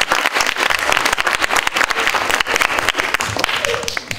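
Continuous crowd applause for a school delegation at a public civic hearing with children, many hands clapping steadily throughout, fairly loud and close.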